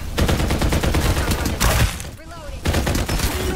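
Gunfire in the shooter video game Farlight 84: dense, loud rapid-fire bursts rattling almost continuously, with a short pause before the shooting resumes, and game voices mixed in.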